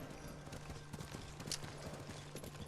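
Horse hooves clip-clop in a quick galloping rhythm in the Ghost of Tsushima video game, steady and fairly quiet, with a low hum running beneath.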